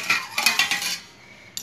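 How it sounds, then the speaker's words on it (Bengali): A metal stand and then a bowl are set into a pan of hot water for steaming caramel egg pudding, giving several close, bright metallic clinks and taps in quick succession before a final small knock. "বসিয়ে দিয়ে আমি এই বাটিটা এখানে বসিয়ে দেব।"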